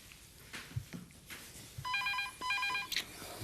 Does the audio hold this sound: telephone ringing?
yes